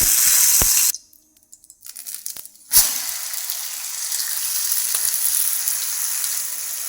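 Bottle gourd dhapate sizzles loudly on an oiled hot griddle, the hiss cutting out for about two seconds, then resuming in a sharp burst and settling into a steady, close frying crackle.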